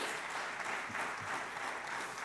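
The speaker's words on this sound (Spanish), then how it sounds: "pido por favor un aplauso" Audience applause at a Spanish-language panel event on social cohesion and artificial intelligence, a continuous wash of clapping heard from a distance in a hall, fairly quiet and steady throughout.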